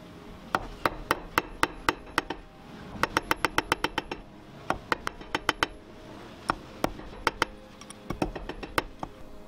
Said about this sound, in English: use a metal hammer and mandrel to shape the ring.